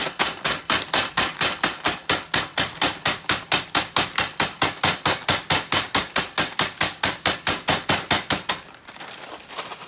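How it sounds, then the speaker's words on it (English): Rapid, steady pounding on a crinkly bag of crumbs, dozens of sharp thwacks in quick rhythm, close and loud, ending in a brief rustle. "hold this while I beat the death out of this bag"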